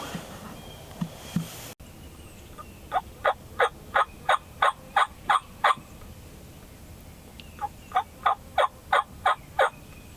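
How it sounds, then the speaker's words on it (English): Wild turkeys gobble outdoors in the woods, two rapid series of repeated clucking gobble notes, loud and fairly close, with no talk over them. "Here comes some turkeys. There's a lot of them."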